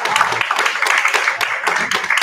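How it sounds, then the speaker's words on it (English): An audience at a monthly storytelling showcase applauds the storytellers, a dense, steady wash of clapping that stays loud for the whole stretch without a break. "So let's give a round of applause to all of our storytellers."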